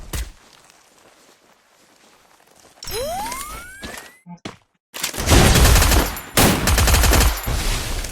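Rapid bursts of loud gunfire erupt in Free Fire after a quiet stretch and a rising whoosh, the shots dense and continuous like automatic weapons.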